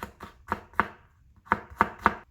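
A knife slices garlic on a cutting board in sharp, evenly spaced taps, four quick cuts, then a short pause and three more, close and clear with no talking.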